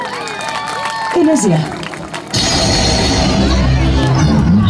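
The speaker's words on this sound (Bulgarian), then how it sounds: "Дайте още малко овации." An audience applauds and cheers at a village festival in Nova Mahala. A voice speaks over the opening moments before dense, loud clapping and crowd noise swell up and continue steadily to the end.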